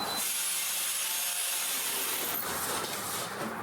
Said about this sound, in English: I just used a grinder and my shirt and rubbed it a bunch of times until a decent amount of rust came off.